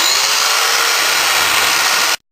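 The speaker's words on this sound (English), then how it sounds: "the fastest way to do it, electric chainsaw." A loud, harsh electric chainsaw cutting foam roars steadily for about two seconds, then cuts off abruptly into silence.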